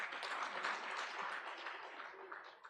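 Audience hand claps at a trade review conference, a dense, steady burst of applause from a crowd that fades slightly toward the end, with no speech over it.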